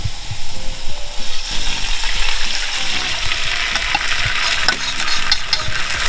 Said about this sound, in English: Make sure you stir it up real well because we had the cornstarch in here earlier